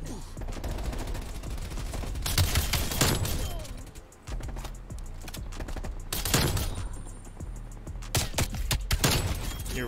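Rapid gunfire bursts from the Black Ops Cold War game, loud repeated volleys and crackling rounds in close succession, mixed with quick keyboard clicks between shots.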